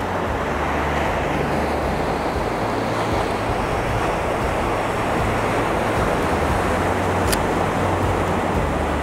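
Loud, steady ocean surf washes over Plum Island beach, a dense unbroken roar of breaking water with no speech.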